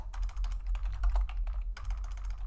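Rapid keystrokes on a computer keyboard, steady uneven clicking close up over a low background hum, with no talking.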